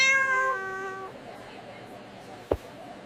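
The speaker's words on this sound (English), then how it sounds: "It's our cat. He followed us." A cat zipped inside a bag on a plane gives one drawn-out meow at the start, followed by quiet and a single soft thump from the bag.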